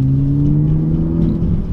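A 2011 Saab 9-5 Turbo6 engine pulls hard with a steady, loud rumbling drone that holds and rises slightly as the turbo spools up, heard from inside the car with no talking.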